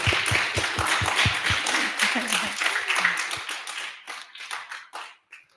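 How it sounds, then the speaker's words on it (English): A small audience claps after a politician speaks at an inauguration day event, a scattered burst of distinct hand claps that thins out and fades over a few seconds while a few voices murmur. "You can clap."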